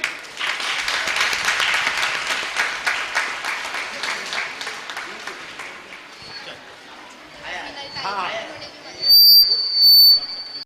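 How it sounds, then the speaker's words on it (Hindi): Audience at an Amrit Mahotsav function bursts into dense, loud applause that slowly fades, followed by sharp, shrill whistle blasts near the end, with speech around it. "सब लोग ताली बजाओ भाई।"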